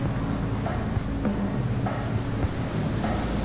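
Ocean waves wash through the video game Shelter, a steady, loud roar of surf and wind-like rush with low rumbling swells that keeps going for the entire stretch, with no voices over it.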